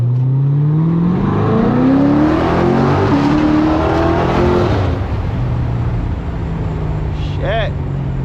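A 600-horsepower Corvette, 2025, revs hard while driving at night, its engine note sweeping up and holding loud and steady, then easing with a brief chirp near the end.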